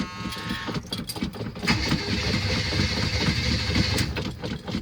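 A 1979 Chevy C10 pickup with a 350 V8 cranks for a cold start on a hot day, its rhythmic starter pulses blending into a loud, steady, close engine rumble with no talking.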